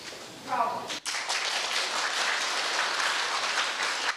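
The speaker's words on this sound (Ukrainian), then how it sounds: "По завершенню патріотичного уроку Володимиру Балуху аплодували стоячи" A hall audience gives a standing ovation after a patriotic lesson, with dense, sustained applause that swells in after a brief murmur of voices and then holds steady and full.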